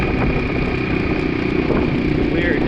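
A 2002 Yamaha 225 outboard engine runs loud and close, its steady mechanical drone overlaid by a rhythmic knock or clatter from the clutch area, with no voices heard.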